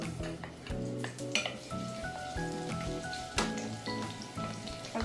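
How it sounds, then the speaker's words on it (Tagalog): Chopped onions sauté in a hot pan for a Filipino home-cooked ginisang sitaw, a steady soft sizzle with occasional utensil clinks, heard under background music with no talking. "igigisa na natin ang sibuyas"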